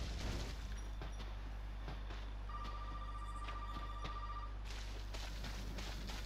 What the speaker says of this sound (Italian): Il telefono può rimanere a squillare.